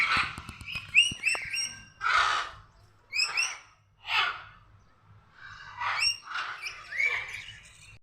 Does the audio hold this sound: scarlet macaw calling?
yes